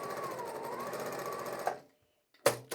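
A sewing machine steadily stitching a quilt block runs as a close, even mechanical whir, then stops abruptly, followed by two short bursts of stitching.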